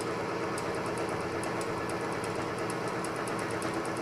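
A small engine runs steadily during an oil additive test, a continuous close mechanical drone with a faint rapid ticking rhythm throughout and no talk.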